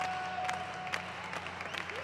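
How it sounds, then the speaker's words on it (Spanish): A volleyball crowd at a men's Pan American Cup match claps in a dense, steady patter heard from some distance, with a faint announcer voice mixed in. "Ya se escuchan las palmas del público que poco a poco ha llegado aquí"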